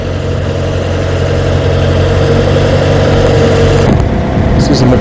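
Engine of a small auger coring rig drilling a pavement test hole with no granular base, a steady loud idling drone throughout with a shift in pitch near the end, voices talking over it.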